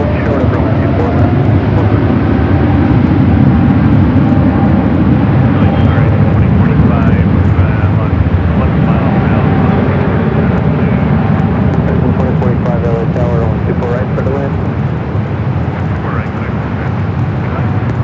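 An airliner takes off at Los Angeles International Airport, a loud broad jet roar that holds steady throughout and swells with engine rumble as the aircraft climbs away.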